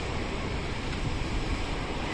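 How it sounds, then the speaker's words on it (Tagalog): Big waves rolling in at Larvotto Beach in Monaco, a steady broad roar of surf mixed with wind buffeting the microphone, continuous and fairly loud with no talking. "Ang dalaki ng alon."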